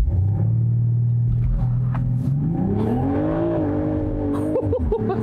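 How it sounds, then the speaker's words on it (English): A 2020 BMW Z4 M40i performs a launch-control start, its engine holding a low steady rumble before rising into a loud climbing rev as the car accelerates hard, close up with no speech. "Now, I want to try the launch control one more time in this car."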